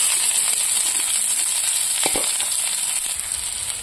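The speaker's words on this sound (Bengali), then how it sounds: "ফার্স্টে আমি পেঁয়াজ আর লঙ্কাটা ভেজে নেব" Onion and chili frying in a little oil, a steady loud hiss and crackle of sizzling that runs throughout, with a few sharper pops partway through.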